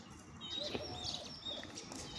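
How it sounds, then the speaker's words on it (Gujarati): A laughing dove coos softly in the distance, with faint chirps from other birds in a quiet outdoor setting. "મારા સામે દેખાતું આ પક્ષી એટલે કે હોલો"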